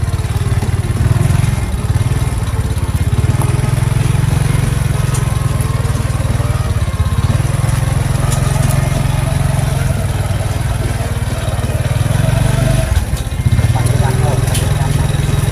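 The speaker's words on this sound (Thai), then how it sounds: "ตอนนี้เราจะนั่งรถนะคะ เรานั่งอยู่ซาเล้งนะคะ" A motorcycle sidecar rig (saleng) rolls through an old village community in Surin, Thailand, its engine droning loudly and continuously with rattling clatter from the ride.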